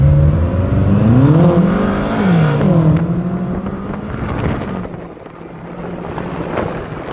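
BMW M6 convertibles launch in a stop-start drag race at a BMW M track day, engines rising and falling in pitch as they accelerate hard and pull away, with heavy wind buffeting the microphone throughout.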